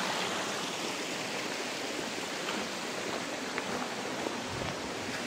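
Rainwater rushes past in a swollen stream running down from higher ground, a steady, dense wash of flowing water that stays loud and even throughout with no voices.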